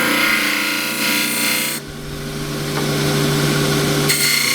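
A 1-inch bowl scraper cuts a small natural-edge wooden bowl on a lathe, giving a close, continuous rasping scrape over a steady motor hum that dips briefly partway through.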